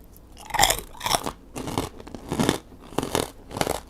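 Big, crunchy pork cracklings chewed up close, with about seven crisp bursts of crunching in a steady rhythm, loud against the quiet. Nobody speaks.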